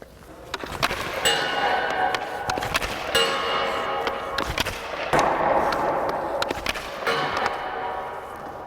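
Rapid hockey shots taken outdoors on snow with a lightweight Nexus ADV stick give a series of sharp clacks and clattering impacts at an uneven pace over steady background noise, with no one speaking.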